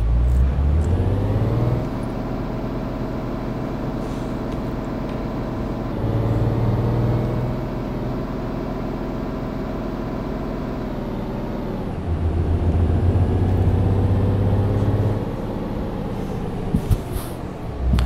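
Heavy bus engine in Euro Truck Simulator 2 droning continuously as the vehicle drives off road through a dip, with low revs rising and falling in cycles and brief clunks near the end.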